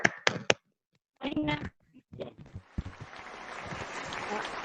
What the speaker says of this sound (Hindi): संतोष जी के लिए एक जोरदार ताली